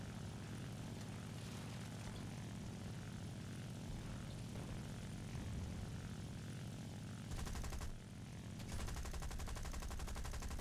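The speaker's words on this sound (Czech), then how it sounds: "Tak zadní střelec střílí, co mu to jde, ale neustřílí nic." Steady propeller aircraft drone from War Thunder, an SB2C-1c dive bomber, with bursts of rapid rear-gunner machine-gun fire cutting in near the end, game-like and continuous.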